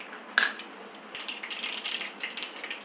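Half a teaspoon of mustard seeds splutters in hot sesame oil in a pan, giving quiet, scattered crackling pops and sizzles with one sharper snap near the start.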